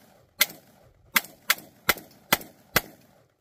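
Firearm rounds fired at a shooting range: six sharp, loud reports, unevenly spaced roughly half a second apart, each with a short decaying tail, and no talking over them.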